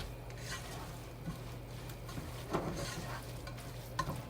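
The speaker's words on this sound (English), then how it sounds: "Just go ahead and saute these down." Vegetables for shepherd's pie sautéing in a pan, a quiet sizzle under repeated spoon scrapes and light clinks against the pan, no talking.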